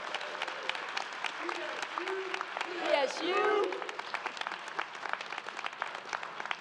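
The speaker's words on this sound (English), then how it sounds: "Please, another round of applause." Audience applause at a Bowie State University Founders Day ceremony, a continuous patter of many hands filling the room while a voice speaks briefly over it in the middle.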